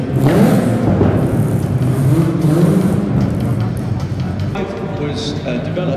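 Classic Peugeot rallycross car with a 700-horsepower 2.1-litre engine driving in a parade at the London Classic Car Show, a loud steady engine roar and rumble with crowd noise mixed in throughout.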